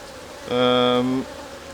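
A honey bee at a hive being inspected while honey supers are added buzzes past close by, a steady, clear drone lasting under a second that rises suddenly and cuts off just as quickly.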